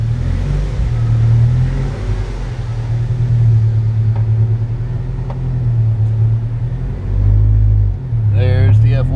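A supercharged Mazda Miata engine drones and rumbles loudly and steadily during full-throttle pulls, with road and cabin noise around it.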